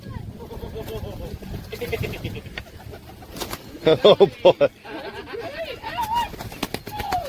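Pigeons cooing while being hand-fed outdoors, with peacocks nearby, in St. Augustine. Soft, throaty coos and fluttering come through amid a person's close, continuous talking and exclamations.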